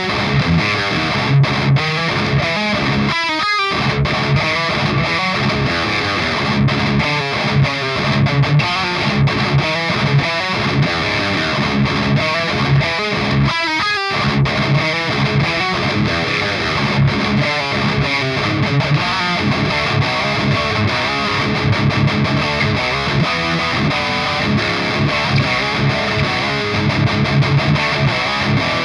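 Heavily distorted electric guitar played through a Quad Cortex capture of a Prometheus amp, dense chugging riffs and sustained chords continuing loud and steady for half a minute with no talk.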